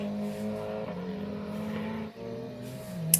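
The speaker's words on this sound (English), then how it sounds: "Now the following car is having a lot of problems coming in and out of drift." Drift car engine at Mineral Wells drifting event, the following car struggling in and out of drift, droning and revving steadily with harmonic whine, a brief dip near two seconds, continuous and fairly close.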